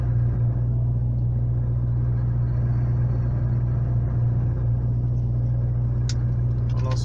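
A truck idles at the Uruguay–Brazil border crossing with a steady, deep engine drone that holds constant and close throughout, with no talk.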